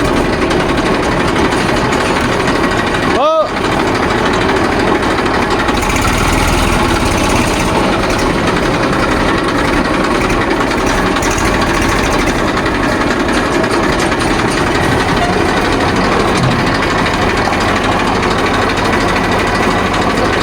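A tractor engine idles steadily at a petrol pump with a chugging, rattling drone that runs continuously and loud up close, with a brief sharp whine near the start.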